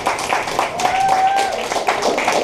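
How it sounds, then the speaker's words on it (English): Scattered clapping from a small comedy-club audience at a local stand-up show, a thin patter of hands that stays fairly steady for a couple of seconds, with some voices mixed in. "let me hear the sound of like, I don't know, 45 hands clapping."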